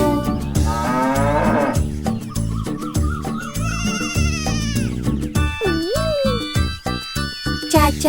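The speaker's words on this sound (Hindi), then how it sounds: "उनके खेत में थी एक गाय" A children's farm nursery song in Hindi features a cow mooing, sung or voiced as long lowing calls within a loud, bouncy musical backing with jingling accents, the moo-like tones sweeping up and down over the melody.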